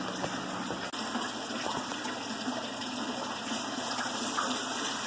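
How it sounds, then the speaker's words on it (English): A poolside outdoor shower head sprays water in a steady, continuous gush with a faint hiss, holding at an even level throughout with no voices over it. "Hey, Steve, does that shower head work?"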